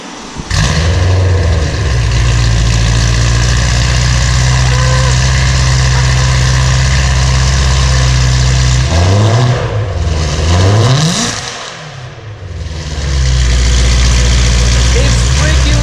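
A BMW M3 fitted with an Armytrix valved exhaust fires up and settles into a loud, deep idle that holds steady, dips briefly with a couple of quick blips, then returns to a strong rumble with a voice over it.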